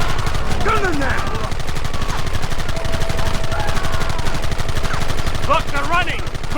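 Gunfire in the video game Red Dead Redemption on PC, dense continuous rattling shots and rapid volleys throughout, loud and close, with shouted voices over it.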